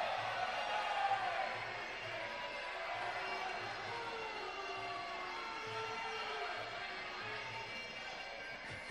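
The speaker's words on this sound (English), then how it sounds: "A few boos from the crowd." Fight-night spectators at a middleweight Muay Thai bout in a stadium boo in long, wavering drawn-out tones over a steady crowd murmur, fairly distant and moderate in level.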